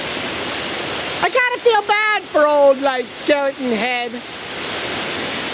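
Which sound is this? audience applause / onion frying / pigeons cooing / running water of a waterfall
running water of a waterfall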